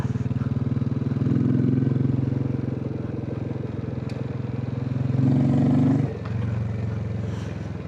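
A Royal Enfield Classic 350 with a stock engine thumps along on a ride, its steady beat swelling twice as the throttle opens and then settling.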